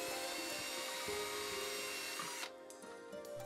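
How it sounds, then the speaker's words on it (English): A power drill whines steadily as it bores a mounting hole through a plastic turntable case, then the motor cuts off and spins down, leaving quieter handling noises. "It took 4 smaller drill bits before I got to the 5th and final drill bit size."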